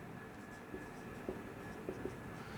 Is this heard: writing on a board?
yes